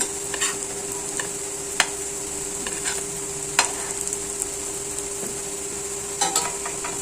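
Vegetable cutlets sizzle and crackle steadily in oil in a pan, with occasional sharp clicks of a utensil scraping or stirring against it, close by.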